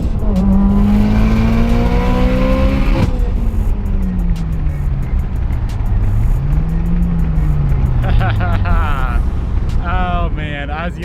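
A 500whp Mitsubishi Evo pulls hard in second gear, the engine note climbing loudly in pitch before a shift, then rising again with turbo hiss and chatter near the end, heard from inside the car.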